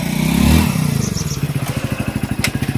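A motorcycle engine putters along at a steady, regular beat while being ridden, starting with a louder rumble and then settling into an even thumping idle-like rhythm close to the listener.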